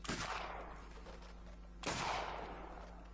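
Two heavy, booming video game gunshot blasts, the second about two seconds after the first, each trailing off in a long rumbling echo.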